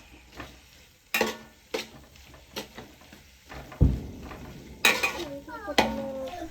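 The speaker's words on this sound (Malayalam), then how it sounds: "ഇനി ഇതിലേക്ക് ആവശ്യമായ മസാലകളൊക്കെ ചേർത്ത് കൊടുത്ത് നന്നായിട്ട് ഇളക്കുക" A spoon stirs masala spices in a pan for kappa biryani, with repeated sharp metal scrapes and clanks at an uneven rhythm over a soft sizzle, close by, with a voice heard at times.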